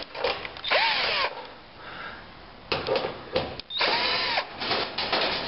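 A power drill runs in several bursts, whining up and down, as it backs out the screws holding the aluminum foil cover on the side of an electric stove, with quiet gaps between bursts.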